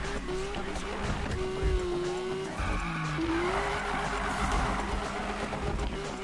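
Cars drifting with tires skidding and squealing in the Need for Speed racing game: a sustained screech over a steady engine drone, shifting pitch partway through, loud and close with no talking.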